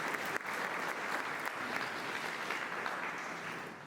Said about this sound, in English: let's give them a big round of applause, all of our sponsors